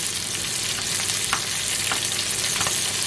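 Chicken pieces brown undisturbed in a hot pan for poulet basquaise, giving a steady, close, dense sizzle with faint pops and crackles throughout and no speech.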